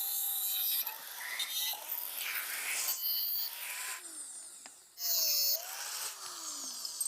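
An old Passion Pro motorcycle handlebar is cut into pieces with a metal cutting tool, giving close, loud, rasping grinds and high whines in several bursts with a brief lull near the middle.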